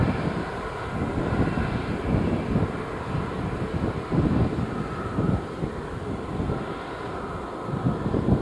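A Delta airliner comes in to land at Montego Bay airport in Jamaica, a steady broadband jet roar mixed with wind buffeting the microphone, holding fairly constant and moderately loud throughout with no voices.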